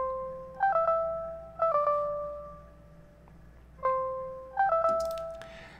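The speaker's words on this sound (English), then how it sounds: "So I came up with this really simple synth melody" Simple synth melody from an indie pop beat made in FL Studio: bright plucked tonal phrases in two short bursts, a pause, then two more, each note decaying over a faint steady low pad.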